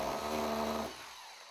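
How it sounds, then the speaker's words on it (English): A rotary hammer drill fitted with a carbide masonry bit boring through bathroom wall tile gives a loud, steady, harsh drilling roar, close by, for most of a second before cutting off to quiet. "Using either a conventional electric drill equipped with a carbide masonry bit or a rotary hammer drill like this one,"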